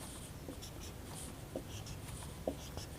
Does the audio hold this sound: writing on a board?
yes